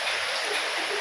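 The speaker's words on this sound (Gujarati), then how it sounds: "તમને અવાજ આવશે ને તો અવાજ ઉપર તો ખબર પડી જ જશે કે કેટલો વરસાદ પડે છે" Heavy rain falls at night as a dense, steady hiss with no breaks, fairly faint and even throughout.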